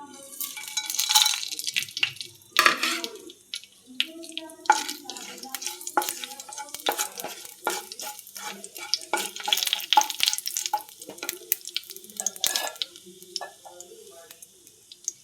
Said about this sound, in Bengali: তেল গরম হয়ে গেছে, দিয়ে দেবো ফোড়ন, গোটা গরম মশলা, এলাচ ফাটিয়ে নিয়েছি, লবঙ্গ, শুকনো লঙ্কা, তেজপাতা, দারচিনি।